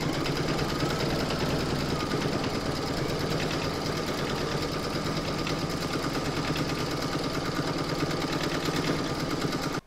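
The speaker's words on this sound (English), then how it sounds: "Pop your hoop back into your machine and stitch round number 2" An embroidery machine stitches a second round on vinyl held in the hoop for an in-the-hoop Shih Tzu pouch, a steady rapid mechanical chatter with a faint whine, close and continuous throughout.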